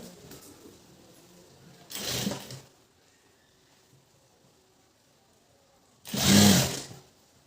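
A sewing machine stitches the sleeve onto a blouse in two short bursts, each under a second long, with quiet pauses between them.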